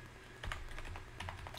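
Keys clack softly on a computer keyboard as a password is typed, a quick irregular run of faint nearby taps with no voices.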